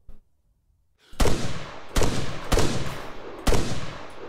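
Gunfire in the military shooter ArmA 3, four loud, sharp shots spaced roughly half a second to a second apart, each with a ringing tail, after a brief quiet start.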